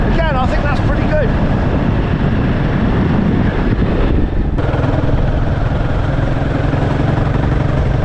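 A Royal Enfield 450 Guerrilla motorcycle cruises on the motorway in top gear, its engine a steady low drone beneath heavy wind rush, with a brief rising whine early on and a rider speaking over it.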